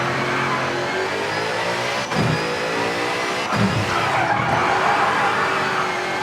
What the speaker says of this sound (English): But we are getting our drift on.